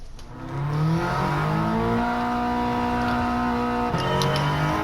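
A turbocharged, front-engine, rear-wheel-drive 2015 Toyota GT86 in a racing video game revs up through rising, steady engine tones, briefly dropping before climbing again, loud and alone.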